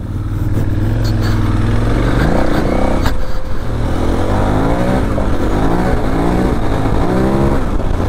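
A KTM 990 Adventure motorcycle engine runs close and loud, holding a steady drone before revving up through rising and falling gear pulls as the bike rides on, no speech.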